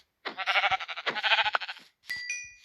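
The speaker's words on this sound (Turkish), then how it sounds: "Aha koyun." A Minecraft sheep bleats in a quick, wavering series of calls, followed by a short electronic chime-like tone, close and clear.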